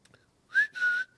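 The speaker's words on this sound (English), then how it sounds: "I can do like a bunch of whistles" A person whistles two short notes, the second held slightly longer, clear and close after a brief quiet start.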